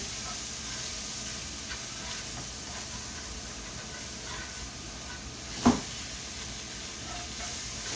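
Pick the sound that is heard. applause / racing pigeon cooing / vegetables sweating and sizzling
vegetables sweating and sizzling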